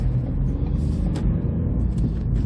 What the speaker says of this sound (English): It makes a sort of pleasing 3-cylinder noise.